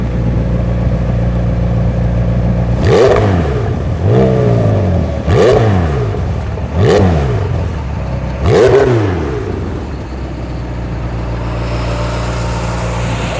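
White 2018 McLaren 720S engine revving up hard four times in quick succession, each loud rise and fall followed by a brief drop, then settling to a lower idle hum close by.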